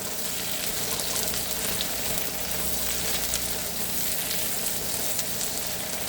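Beef bistek frying in a pan, a dense unbroken sizzle that holds loud and close for several seconds, with faint stirring scrapes underneath and no talking.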